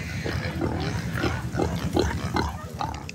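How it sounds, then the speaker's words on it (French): Wild pigs on Koh Samui, Thailand, grunting in a steady series of short, rough snorts at fairly even intervals against constant outdoor background noise. "Ou les cochons sauvages de Koh Soum."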